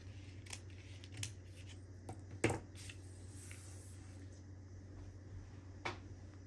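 Scissors cut paper materials for a no-sew pocket folio at a cluttered craft desk: several short, crisp snips spaced irregularly against a quiet room, one sharper cut standing out midway.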